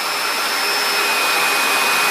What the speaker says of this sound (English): I'm going to say while my blow dryer is going